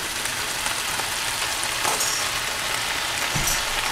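Ratatouille vegetables sizzling and frying steadily in a pan while being stirred constantly, a continuous close crackle with occasional scraping, no talking.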